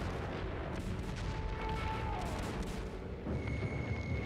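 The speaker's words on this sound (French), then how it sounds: "6000 canons allemands bombardèrent de gaz et d'obus l'ensemble des positions britanniques" A First World War German artillery bombardment of gas and high-explosive shells on British positions at dawn: a dense, continuous rumble of heavy gunfire and booms rolls on without pause, loud and close, with no voices.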